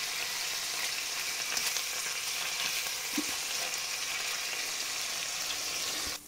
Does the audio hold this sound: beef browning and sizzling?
yes